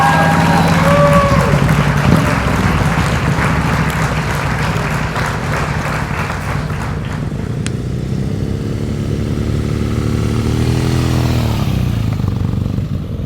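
A motorcycle rolls at slow speed during an advanced riding skills practice session, its engine putting along steadily and close by, with the pitch dipping and rising as the throttle is worked near the end.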